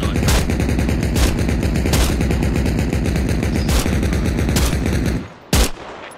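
A .50-caliber machine gun fires in ARMA Reforger: a loud, close, continuous rapid burst of heavy rounds for about five seconds with a few sharper cracks in between, then a brief pause and a single last blast.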